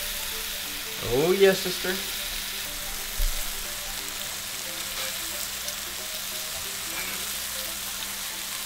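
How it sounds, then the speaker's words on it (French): Burger patties topped with raclette cheese sizzle steadily in a pan, a soft continuous frying hiss with a few louder spatula scrapes and clunks early on, while someone speaks briefly over it. "On vient appliquer notre fromage raclette sur les boulettes en pleine cuisson"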